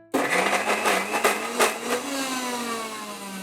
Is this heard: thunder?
no